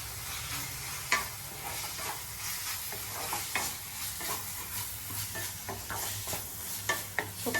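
A spatula scrapes and stirs a methi matar malai base with ginger garlic paste in a frying pan, with a soft sizzle underneath and repeated sharp scraping knocks against the pan.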